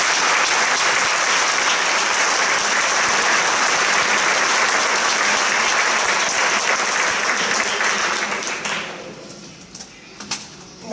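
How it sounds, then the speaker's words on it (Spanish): Audience applause at a town festival proclamation event in Abarán, loud sustained clapping from a large crowd that fades out over the last couple of seconds, leaving a few scattered claps. "Un aplauso para él."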